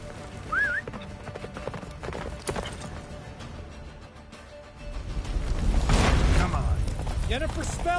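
Hooves of Roach, the horse in The Witcher 3 on PS5, galloping steadily through a game scene as a blizzard nears a fortress, with music and wind swelling underneath and brief speech at the start.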